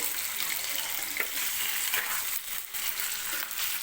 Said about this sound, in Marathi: आणि आता आपण थोडासा जो आहे तो तेलामध्ये शिजवून घेणार आहे.